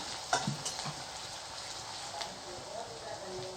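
Onions frying in a pan give a soft steady sizzle with a few light utensil taps near the start, close and fairly quiet throughout.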